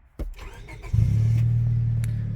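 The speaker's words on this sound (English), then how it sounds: "So I'm going to turn on the car" A car engine cranks and catches after a brief click, then settles into a loud, steady idle close by; the car had an overheating problem.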